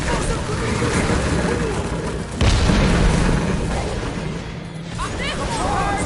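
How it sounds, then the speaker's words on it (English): Explosive grenade blast in Marvel's Guardians of the Galaxy video game, one heavy boom in the middle of ongoing combat noise, with voices talking over the action. "The explosive grenade!"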